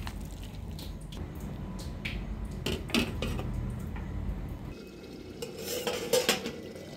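Vegetables being stirred in a cooking pot with a utensil, giving soft scraping and clinks against the metal, followed by the lid being set on top, a close and fairly quiet sequence with no talking.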